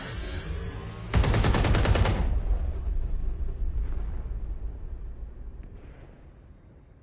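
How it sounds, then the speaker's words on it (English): Explosions and gunfire in the video game Watch Dogs Legion: a sudden loud burst of rapid gunfire and blasts lasting about a second, then a long rumbling decay that fades gradually. "Moments ago, a series of explosions devastated 3 sites in London."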